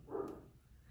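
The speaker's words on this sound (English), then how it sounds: "I'm so sorry if you can hear my puppy in the background" A Great Dane puppy barks once from another room, a short, muffled and faint bark.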